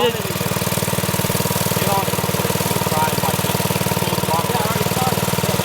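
A rebuilt mini bike engine runs steadily and close up, a dense, fast-firing putter that holds an even idle-like rhythm throughout, with a little talk over it.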